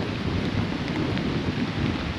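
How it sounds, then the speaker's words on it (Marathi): Strong gusty wind and heavy rain roar continuously on a monsoon trek to Mahuli Fort, a dense, loud, close wash of noise with no voices. "चांगला सोसाट्याचा वारा, पाऊस सुटला आहे."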